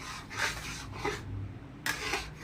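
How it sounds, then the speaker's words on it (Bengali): A spoon scrapes and stirs homemade ghee in a pan over a low gas flame as water cooks out. Several rough, rhythmic scraping strokes come close up against a soft bubbling background. "আস্তে করে রেখে দিয়েছি দেখো এরমভাবে নাড়তে হবে আর জল বেরোচ্ছে"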